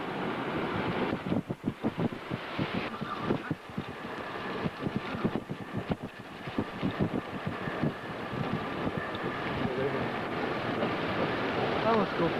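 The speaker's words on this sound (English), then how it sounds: "We're still having very strong gusty winds." Strong, gusty wind in the aftermath of Hurricane Georges buffets an outdoor microphone, rising and falling in loud rushing surges with a faint voice now and then underneath.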